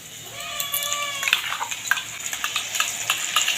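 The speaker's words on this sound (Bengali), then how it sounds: "যতক্ষণ না আদা পেঁয়াজ রসুনের কাঁচা বন্ধটা যাচ্ছে আমি ভেজে নেব খুব ভালো করে" Ginger, garlic, chili and onion paste fries in a pan with onions, a steady sizzle under repeated stirring and scraping, close and moderately loud, with a brief squeaky whistle-like tone early on.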